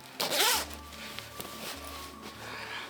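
The zipper on a zip hoodie is pulled in one quick, bright rasping stroke near the start, followed by softer fabric handling and small clicks at close range, all quiet and with no speech.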